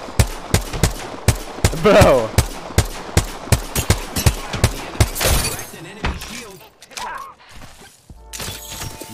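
An R-301 rifle fires in Apex Legends, a rapid string of sharp, evenly spaced shots for about five seconds, then scattered cracks and impacts, with a player's voice briefly shouting over the shooting.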